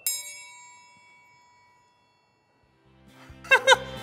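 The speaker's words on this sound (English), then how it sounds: "Should I play the triangle?" A triangle struck with a small stick rings out once, a bright ringing tone that slowly decays into silence, then laughter and a voice follow near the end.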